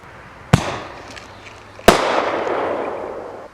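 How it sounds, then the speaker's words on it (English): Two sharp firework mortar shots from a mortar kit crack out about a second and a half apart, each followed by a long fading rumble and crackle echoing away into the open air. "Mite's mortar kit."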